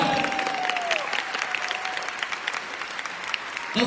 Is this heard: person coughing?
no